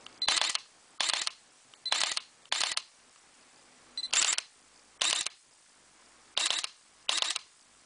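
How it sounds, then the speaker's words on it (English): Sharp Sony NEX camera shutter clicks, eight of them in an uneven rhythm, close and crisp with brief pauses between shots. "If you listen how loud the shutter is,"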